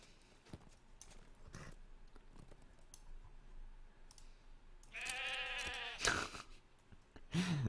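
A sheep bleats twice in a wavering, drawn-out call, with clicks and soft clopping footsteps in the background of a Lord of the Rings Online game scene.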